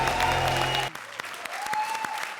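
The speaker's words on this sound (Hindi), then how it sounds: "जोरदार तालियां।" On a Kaun Banega Crorepati quiz show comedy sketch, a swell of music cuts off and scattered audience clapping follows, a few sharp claps standing out over a soft background.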